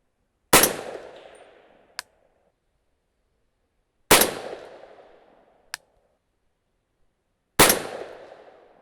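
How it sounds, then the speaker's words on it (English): A 300 Blackout rifle fires subsonic 220 grain ELD-X rounds, three loud, sharp shots spaced a few seconds apart, each fading in a short echo, with a faint metallic ping following the first two. "let's go back to the 220 grain ELD-X and shoot these last"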